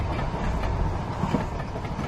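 A moving train carrying migrants rolls along the rails, a dense steady rumble with faint rhythmic clatter, heard from inside at moderate level with no voices.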